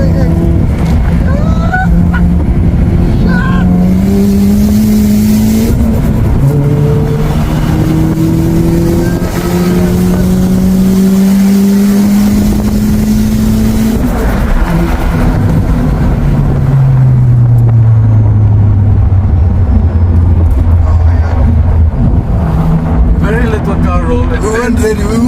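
Boosted 188 kW Honda Civic FD accelerating hard through a corner on the road, its engine droning and rising in pitch, dropping briefly and climbing again, steady and close inside the cabin, with people talking over it.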